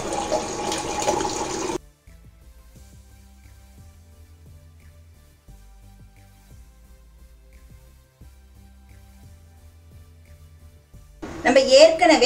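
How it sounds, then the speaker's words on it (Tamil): Water poured into a pot of spicy kara sev kuzhambu, a short burst of splashing at the start and again at the end with a quiet stretch between. "தேவையான அளவு தண்ணி ஊற்றிக்கோங்க."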